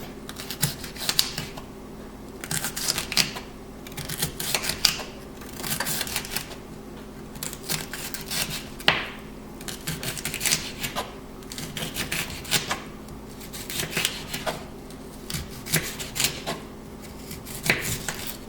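A knife taps steadily against a cutting board while thinly slicing avocado salsa ingredients, giving quick, close, irregular clicks and knocks that continue throughout with no talking.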